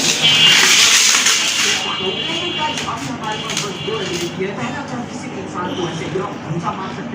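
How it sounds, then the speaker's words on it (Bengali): A knife cuts through a whole tilapia fish, a series of close, rhythmic chopping knocks on a board with steady background hiss, while a person talks over it. "এবার আমি মাছটা কেটে নেব।"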